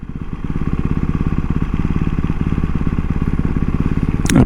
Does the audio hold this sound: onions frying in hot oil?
no